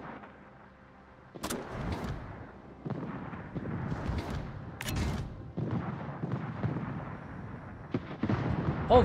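Warship naval guns in World of Warships fire in a clan battle, several loud booming salvos arriving in separate bursts a second or two apart, each with a deep rumbling tail and quiet gaps between.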